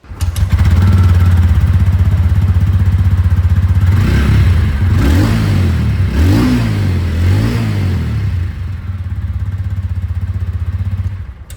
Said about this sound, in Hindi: तो एग्जॉस्ट साउंड सुन लेते हैं। स्टार्ट करते हैं यहाँ पर आप कह सकते हैं रॉनिन के साथ।